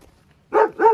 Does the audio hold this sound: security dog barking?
yes